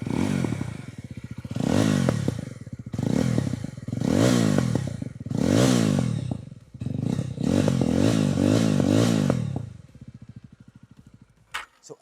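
Yezdi Roadster motorcycle with its exhaust baffles removed, revved in about seven sharp bursts, each a throaty rise and fall with popping on the overrun, loud and near, ending in a brief clatter.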